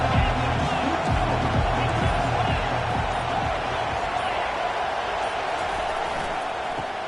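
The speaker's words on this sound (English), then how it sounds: "This crowd bringing an ear-splitting welcome to their visitors." A stadium crowd at an American football game roars a loud welcome for the visiting team, a dense, continuous wall of noise with a commentator's voice over it.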